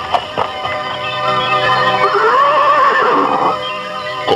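A horse neighs loudly in an Indonesian radio drama, a long rising and falling whinny that swells in the middle and fades near the end, heard alone without talk.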